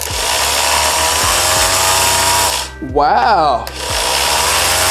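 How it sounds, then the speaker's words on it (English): An electric sander runs off a Powdeom 614Wh portable power station, giving a loud, steady, high-pitched whirring drone throughout, briefly interrupted in the middle by a short exclamation from a person. "Because these sanders are usually very, very loud."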